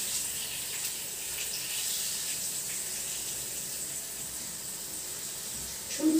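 Water sprays in a steady, fairly quiet hiss that runs evenly throughout, with a brief louder burst at the very end.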